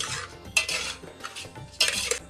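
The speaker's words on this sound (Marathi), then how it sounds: "अगेन तांदूळ घातल्यानंतर तो परतायला पण आपल्याला लागतो." Rice is stirred and sautéed in a pot for masale bhat, giving close, scraping strokes of a utensil against metal in an uneven rhythm, with a faint sizzle underneath.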